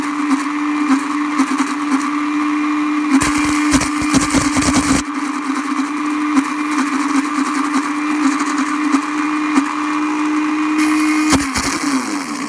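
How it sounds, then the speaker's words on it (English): A blender whirs steadily at close range with a constant motor hum, briefly surging louder and rougher twice as the blades whip thick jelly into mousse. "I can hardly even see the blades down there in the blender. I'm gonna whip it just a little bit more."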